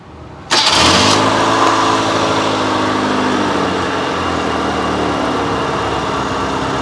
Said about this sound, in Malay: Dan start kereta ni.